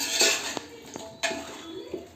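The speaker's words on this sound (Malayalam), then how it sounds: "നമുക്ക് നല്ലതുപോലെ ഒന്ന് മിക്സ് ചെയ്ത് കൊടുക്കാം." Utensil scraping and clinking against a pot while chicken biryani masala is stirred with yogurt, a few distinct metallic knocks spaced across the moment, close and fairly quiet with no talking.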